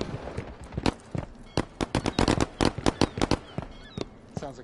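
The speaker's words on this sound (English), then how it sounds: "Oh, that does sound like fireworks." Rapid bursts of fireworks popping in a video game, a dense irregular string of sharp cracks and bangs, loud and close.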